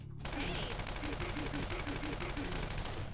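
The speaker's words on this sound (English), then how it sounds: "Let's try shooting it." Rapid gunfire from Persona 5 Royal, a dense stream of shots packed closely together under the game's music, steady and fairly loud for about three seconds.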